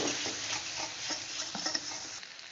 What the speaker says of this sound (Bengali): হলুদ দিয়ে একটু ভালো করে কষাবো যেন হলুদের গন্ধটা চলে যায়